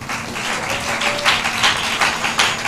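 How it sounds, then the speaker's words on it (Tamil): A church congregation claps together during a Tamil Christian sermon, a steady, dense patter of many hands filling the room at moderate loudness, with no speech over it. "அதுக்கு ஏசப்பாவுக்கு ஒரு கை தட்டு தட்டுங்க"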